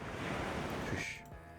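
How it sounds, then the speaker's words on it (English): Ocean waves crash in Goddess of Victory: Nikke, a broad steady wash of surf that fills the short stretch, then drops away and turns quieter near the end, with no talking. "she can hear the waves crashing"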